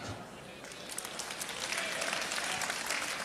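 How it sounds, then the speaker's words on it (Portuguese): Audience applause at a leadership sermon, a soft, dense patter of many hands that swells slightly and holds steady, fairly distant and alone. "Aplauda."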